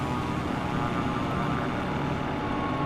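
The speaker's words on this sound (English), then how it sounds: "How come that sounds like a plane going by?" An aircraft in Microsoft Flight Simulator 2024 passes by with a steady, broad engine roar, loud and continuous throughout with no talk over it.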